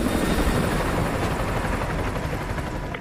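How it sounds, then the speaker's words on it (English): An enemy helicopter patrols in Call of Duty Modern Warfare 2, its rotor thumping loud and close in a dense, continuous chop that fades a little toward the end. "Enemy helo patrolling the perimeter."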